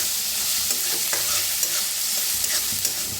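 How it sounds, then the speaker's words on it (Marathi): Chopped onions fry in a pan, giving a steady, dense sizzle throughout, with a few light clicks of stirring on top, close and fairly loud. "छान भाजून घ्यायचा आहे बघा, मस्त भाजले कांदा"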